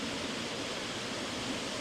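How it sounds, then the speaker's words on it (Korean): Yongdam Falls in Andong pours in a steady, full-band rushing roar of falling water, constant and close, with no voices over it. "폭포수 소리부터 시작하죠"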